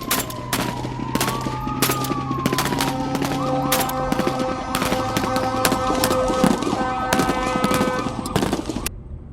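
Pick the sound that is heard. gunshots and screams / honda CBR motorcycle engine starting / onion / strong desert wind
gunshots and screams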